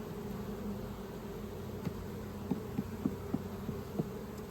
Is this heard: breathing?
no